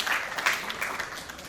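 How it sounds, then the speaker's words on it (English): Audience applause at a university talk session, a brief, fairly soft wash of clapping heard for just over a second, with no voices over it. "Could we please have a round of applause for this beautiful session?"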